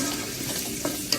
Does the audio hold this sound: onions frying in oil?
yes